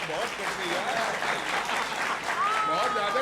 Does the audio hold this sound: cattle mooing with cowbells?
no